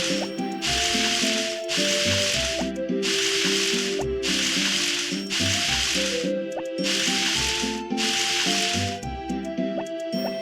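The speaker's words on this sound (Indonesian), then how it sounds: "Oke, kita siram-siram dulu." Rhythmic bursts of hissing spray from watering plants repeat about every second, close and steady, with a faint musical background underneath and no talking.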